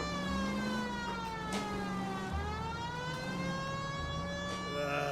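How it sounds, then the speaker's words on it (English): A steady wailing police car siren in the video game L.A. Noire, with a harmonic, slowly shifting pitch, plays under an engine hum, with brief bursts of speech over it. "Turn on the sirens."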